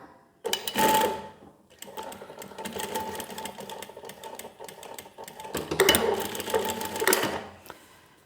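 Industrial walking foot sewing machine, model 1903SX, stitching through strips of vinyl in two close, loud runs with a brief pause between, no talk.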